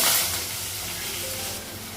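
Potatoes and onions frying in hot oil give a steady, dense sizzle and hiss, close and even throughout with no voices.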